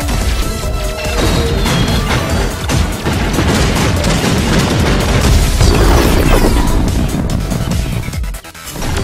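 Loud, dense blasts and crashes from a bomb going off in the arcade shooter Resogun, continuous booming debris and impacts filling the whole stretch with barely a pause near the end.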